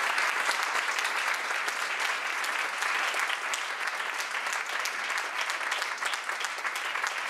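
An audience at a Catalan-language round-table discussion gives Pepa warm, sustained applause, steady clapping from a sizeable crowd with no break for the full stretch.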